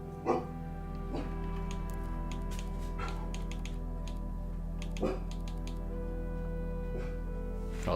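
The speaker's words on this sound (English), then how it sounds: "Hold on, the dog is barking." A dog barks a few times in short, sharp bursts, fairly distant and separated by pauses, over a steady low hum of background noise in a room.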